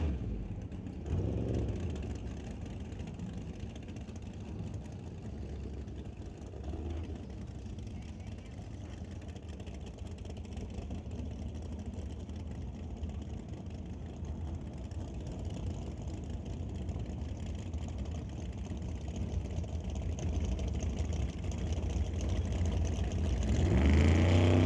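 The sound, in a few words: drag racing car making a run down the racetrack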